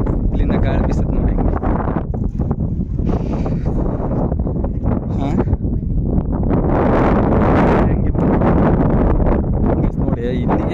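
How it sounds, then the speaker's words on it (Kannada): At the far end of Chandragutti hill, strong wind buffets the microphone in continuous rough gusts with some rustling, and a voice speaks briefly over it. "ಇಲ್ಲಿಂದ ಗಾಳಿ ಬೀಸುತ್ತೆ ನೋಡಿ."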